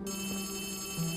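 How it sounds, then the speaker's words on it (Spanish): Telephone ringing inside the Poppy Playtime Chapter 3 video game, a steady electronic ring sustained throughout at moderate level, with a brief louder sound at the very end. "¡Oh, el teléfono!"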